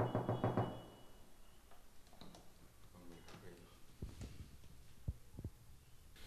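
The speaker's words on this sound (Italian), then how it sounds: "È inutile bussare, non risponderà nessuno." Someone knocks on an apartment door in a public housing block in Bari's San Paolo district, with a quick run of low thumps at the start and a few sharper raps later, as people talk nearby.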